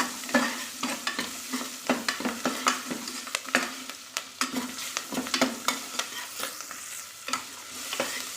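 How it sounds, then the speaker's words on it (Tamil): Plenty of shallots fry in a pan with dried red chillies, crackling under quick, irregular scrapes and taps of a stirring spoon, close and busy, with no talking. "சாம்பார் வெங்காயம் தாராளமாக சேர்த்திக்கலாம் சேர்த்துட்டு அதை நல்லா வணக்கிக்கலாம்"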